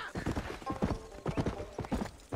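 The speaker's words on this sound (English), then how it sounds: "a little horsey interaction" A horse in Red Dead Redemption clip-clops in quick, close hoofbeats, a brisk rhythmic run of clops with a brief whinny-like tone woven in.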